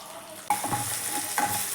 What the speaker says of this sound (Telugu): అదే ప్యాన్లో కొంచెం జీలకర్ర, 2 స్పూన్లు ఆయిల్ వేసాను, 2 ఎండుమిరపకాయలు, వెల్లుల్లి తరుగు